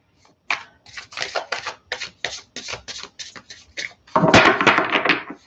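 Tarot cards being shuffled in quick, rhythmic bursts of riffling and snapping close by, ending in a louder, denser flurry of shuffling.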